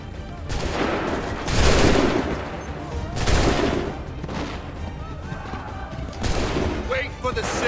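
Musket volleys in the Assassin's Creed III video game, with several loud, rolling rounds of massed gunfire booming in sequence under battlefield noise and shouted commands.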